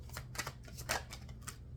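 Tarot cards shuffled by hand at close range: a soft, quiet run of quick papery riffles and flicks in short uneven bursts, with no talking.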